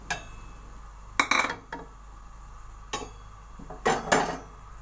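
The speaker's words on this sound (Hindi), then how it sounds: "एक प्लेट में हम प्याज को बाहर निकाल लेंगे।" Fried onions are scooped out of a pan onto a plate for moong dal khichdi, with a few sharp metallic scrapes and clinks of a spoon in separate bursts against a quiet background.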